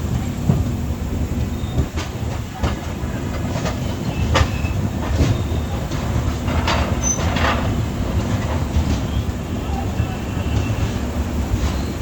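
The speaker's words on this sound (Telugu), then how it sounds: "స్లోగా మూవ్ అవుతుంది" Uday Express double decker train rolling slowly on the outskirts of Rajahmundry, a continuous low rumble of wheels on rails heard from inside, with occasional clacks and faint squeals over a steady drone.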